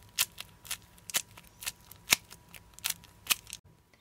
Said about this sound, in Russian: Вот такой двойной Simple Dimple у меня получился. А сейчас давайте его затестим.